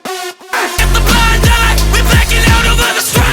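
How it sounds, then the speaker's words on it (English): Super saw synth in a sparse rap track mix, loud buzzy chords layered over pulsing deep bass hits in a steady rhythm, filling the mix. "And then we finally have this super saw."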